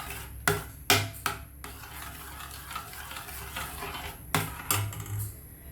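Carrot pudding mixture with butter being stirred in a bowl, a spoon scraping and clacking against the sides in a few sharp knocks between softer continuous swishing, close and alone without talk.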